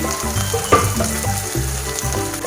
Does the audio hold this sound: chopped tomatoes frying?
yes